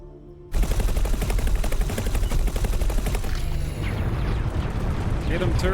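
Turrets firing in a space combat video game, erupting suddenly after a quiet moment into dense, continuous rapid-fire bursts with mechanical clatter and sweeping electronic tones, loud throughout while a voice talks intermittently.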